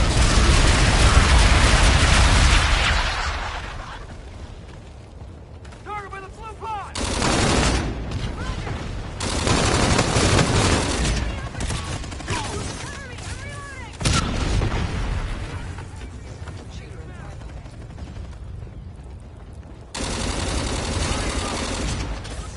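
Enemy bombardment and gunfire in the Call of Duty: Infinite Warfare video game: loud booming explosions and bursts of rapid gunfire, strongest at the opening, then recurring in waves, with radio voices talking over the battle.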